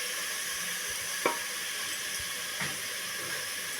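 Potato and brinjal curry cooking in a pan on a medium flame, giving a steady broadband sizzle with a few soft stirring knocks spaced through it and no voices.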